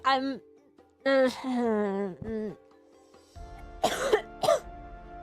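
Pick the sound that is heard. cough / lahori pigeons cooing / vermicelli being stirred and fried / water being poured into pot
cough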